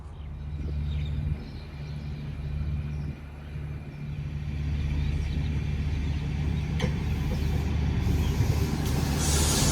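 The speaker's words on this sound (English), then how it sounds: "There's a lot of trucks around." Heavy trucks rumble past near a rural railway station, a steady low engine drone that swells louder toward the end, with a sharp hiss like an air brake midway and no talking.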